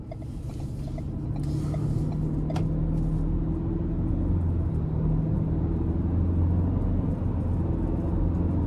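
A 2026 Ford Ranger XL STX midsize pickup with the 2.3-litre engine pulls hard in sport mode, giving a steady low engine rumble and road noise heard from inside the cab, with no talking.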